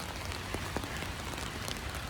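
Rain falls during an afternoon walk outdoors, a steady close patter of drops with occasional sharper individual splashes, even in loudness and free of voices.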